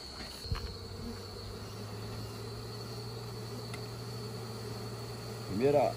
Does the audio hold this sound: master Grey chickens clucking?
no